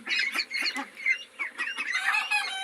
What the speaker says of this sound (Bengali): আপনারা দেখতে পাচ্ছেন অরিজিনাল ফিকিং স্টার 13 হাঁসের বাচ্চা